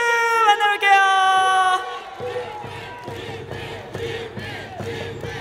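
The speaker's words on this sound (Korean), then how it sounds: "우리 유한준 선수에게 다시 한번 큰 박수 부탁드립니다" A baseball stadium crowd cheers and applauds a player during a post-game interview, repeated roaring bursts after a loud sustained tonal passage at the start.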